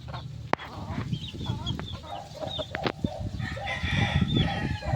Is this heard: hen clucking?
yes